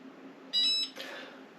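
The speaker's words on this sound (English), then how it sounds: "Okay, so it just beeped. That means we're ready to take out our cup." A Cricut Mug Press gives a single clear electronic beep when finished, followed by a softer tone, in a quiet room.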